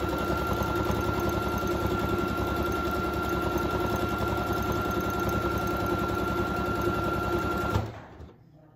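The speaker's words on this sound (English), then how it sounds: "we're going to go all the way back around it with a stitch on the" A sewing machine runs steadily at close range, stitching along the edge of a cloth face mask with a rapid, even mechanical whir, then stops abruptly near the end.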